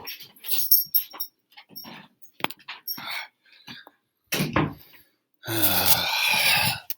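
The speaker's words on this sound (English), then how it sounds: "my dog is going crazy" A puppy whines, yelps and barks in short, irregular bursts, ending in a longer loud wailing cry, close by with silent gaps between sounds.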